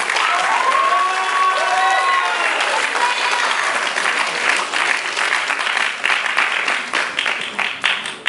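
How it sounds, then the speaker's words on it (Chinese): Loud, sustained clapping from an audience at a dance show, dense and continuous at first with faint overlapping voices and whoops, then thinning into more scattered, uneven claps toward the end. "是不是掌声不够大声啊？"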